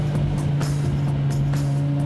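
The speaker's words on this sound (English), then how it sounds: "The mid-engine rumbles behind me with over 500 horses just begging to be set free." An Italian mid-engine sports car with over 500 horsepower rumbles steadily up close as it cruises through an upscale neighborhood, a deep continuous drone with no speech over it.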